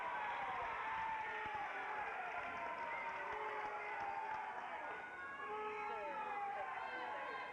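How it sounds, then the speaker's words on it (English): A high school basketball crowd at West Wendover vs Hawthorne boos and murmurs steadily in a gym after a referee's foul call, a sustained roar behind a commentator's voice. "Crowd doesn't like that call at all."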